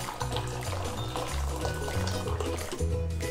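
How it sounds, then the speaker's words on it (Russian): Hot water is poured over dry tapioca pearls in a saucepan, a steady continuous splash lasting a few seconds under background music. "Заливаем их горячей водой."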